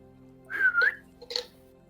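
A person whistles two short rising-and-falling notes with a brief pause between them, clear and close in a quiet room, during a Dungeons & Dragons tabletop game session.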